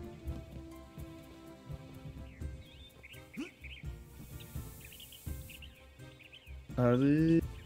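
A storm with rain sweeps through a Neopets video game, as a hiss of rainfall swells briefly in the middle beneath game music and chirpy character sounds, ending with a louder tonal burst.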